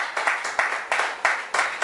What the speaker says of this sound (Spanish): ¿Cuántos le dan un aplauso a la palabra del Señor?